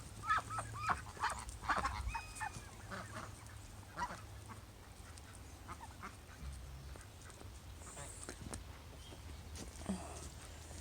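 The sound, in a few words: ducks quacking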